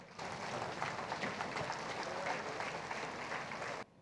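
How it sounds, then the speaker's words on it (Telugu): An audience standing to applaud and welcome a young member of parliament as a guest at a gathering, a dense, even wash of clapping lasting a few seconds, then cutting off. "గట్టిగా చప్పట్లతో లేచి నిలబడి స్వాగతం పలుకుదాం"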